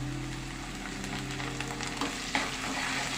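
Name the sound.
turmeric and coriander frying in a pan for fish curry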